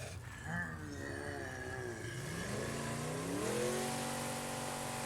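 A car engine revs and climbs in pitch in the zombie survival game State of Decay 2, the tone rising and falling through gear changes, steady and fairly close with a voice talking over it.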